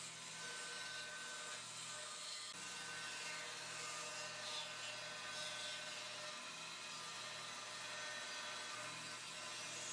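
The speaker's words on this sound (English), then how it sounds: "now I'm going to go in and cut out the shape" Cutting the shape of a guitar body out of a glued, clamped wooden blank with a power saw, which makes a steady, continuous high whine with a low hum underneath throughout, without any talking.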